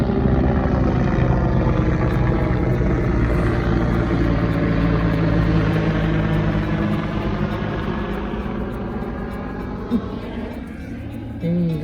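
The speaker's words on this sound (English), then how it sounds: "Helicopter flying over there." A helicopter passes overhead on a summer evening in Fort McMurray, Alberta, heard as a steady, fairly loud droning whir with a faint rhythmic blade chop that eases off toward the end.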